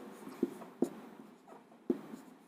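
Marker or chalk strokes on a board, three or four sharp close taps and short scrapes spaced irregularly, with faint room ambience between.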